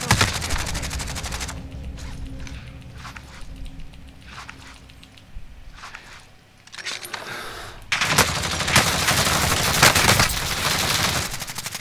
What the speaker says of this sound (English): someone from up top's firing at me